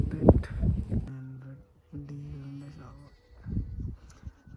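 Sheep in Romania bleat in two drawn-out, quavering calls at moderate distance, with people talking before and after.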